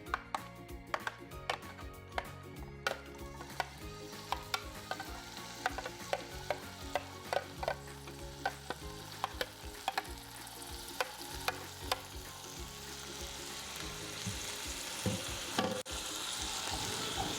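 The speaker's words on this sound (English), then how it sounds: "Now we're going to stir it around until it gets nice and golden looking for about like 2 to 3 minutes." Vegetables for a vegan tofu scramble sizzle in a hot pan while a utensil scrapes and clacks through them in irregular strokes. The frying hiss swells and grows steadier toward the end.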